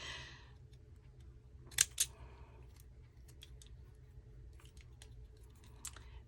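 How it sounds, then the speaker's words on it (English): Ripple-edged craft scissors snip through paper label strips in a quiet room, with two crisp cutting crunches near the middle and a lighter snip toward the end, otherwise faint handling noise. "these are ripple scissors, and you could use that to cut them out if you so desired"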